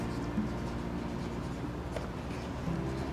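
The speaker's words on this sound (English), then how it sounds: "Here I am going to write a definition." Writing out a definition during an arithmetic progression lesson, a soft, continuous scratching of writing that runs steadily for a few seconds over a low room hum.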